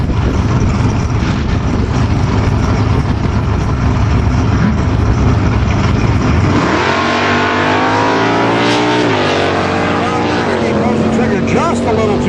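A 1987 Buick Grand National and a Chevy Monza at a drag race, with loud engines roaring and revving hard throughout. One engine note climbs in pitch partway through while a voice talks over the noise.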